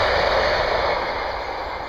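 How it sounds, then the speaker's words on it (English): Close, loud rumbling roar of a train passing, steady broadband noise filling the whole stretch with no speech over it. "Oh, there's a bloody train coming."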